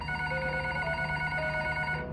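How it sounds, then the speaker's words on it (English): A hotel room telephone rings steadily at night, a continuous electronic trill heard close and alone in a quiet room. "the phone to our room rang"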